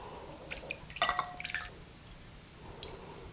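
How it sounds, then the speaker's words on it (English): Canned French onion soup, 10-ounce cans, poured into a medium bowl: a cluster of wet drips, glugs and squishy splashes in the first half, then a quieter stretch with one more faint drip near the end. "so we're going to pour these into a medium bowl"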